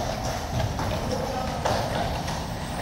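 Horse hooves clip-clop steadily on pavement among tourists at a King's Guard post, a continuous busy patter with crowd noise and voices mixed in.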